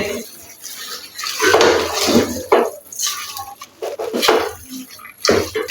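A spoon scrapes and clinks against a cooking pan while aloo palak is stirred and mixed, producing irregular metallic scraping and sizzling under a person talking.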